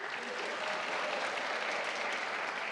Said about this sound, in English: Come on, clap for them too.